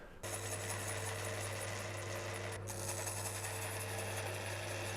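A router trims wood for a mortise and tenon joint on an outdoor table, giving a loud, steady high-pitched whine with a constant low hum, running unbroken.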